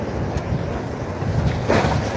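Steady wind rushing and buffeting across the microphone at a demolition of Blackpool's old police station, with a broad roar that swells slightly near the end, probably outdoors by open water.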